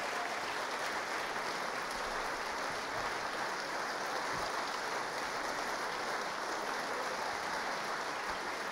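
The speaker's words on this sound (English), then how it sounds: "He leads applause for the orchestra." Steady, dense applause from a large audience at an opera curtain call as the orchestra is acknowledged, continuous and even throughout with no pauses.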